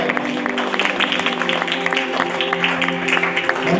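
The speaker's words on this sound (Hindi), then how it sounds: "और आप सभी का एक बार जोरदार ताली के साथ में आपका स्वागत है।" A seated audience gives hearty applause of welcome at a speaking seminar, a steady crackle of many hands clapping throughout, laid over a low sustained musical hum.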